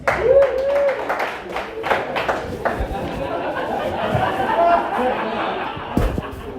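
A crowd at a comedy debate breaks into applause and chatter, a dense clapping wash that rises under a speaking voice and carries on steadily for several seconds.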